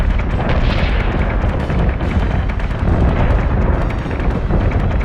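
Heavy explosions and incoming fire rumble in a space battle in the Battlestar Galactica Deadlock video game, a loud, continuous barrage of booms and blasts with no talking.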